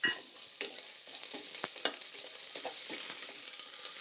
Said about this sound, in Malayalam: നമ്മൾ ഇതിലേക്ക് ഇട്ട് കൊടുക്കുന്നത് സവാളേൻ്റെ കുറച്ച് പീസസ് ആണ്. ഇത് നന്നായി ഒന്ന് വാട്ടിയെടുക്കുക.